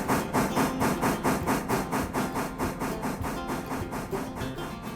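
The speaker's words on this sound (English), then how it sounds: "we're going to go ahead and stop the train up a little bit more here." Train slowing to a stop in the Railroader railway simulation game, a rapid steady chugging rhythm with hissing steam, loud and close throughout.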